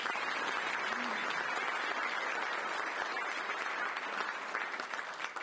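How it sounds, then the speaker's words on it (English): Audience applause at a trophy luncheon, a dense continuous roar of many hands clapping, steady and full for the whole stretch, slightly easing near the end. "So please a round of applause for those people."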